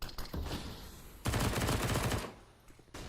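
Rapid AK rifle fire in Counter-Strike on the Mirage map during a UKCS Hub Winter 2021 match, a dense burst of automatic shots with a louder sustained volley in the middle, fairly near.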